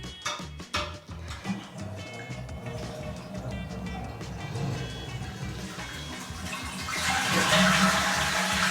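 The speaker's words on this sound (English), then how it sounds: "It took that long just to flush the toilet." A household toilet flushes with a long, turbulent rush of water that swells to a loud gurgling surge near the end, heard close up.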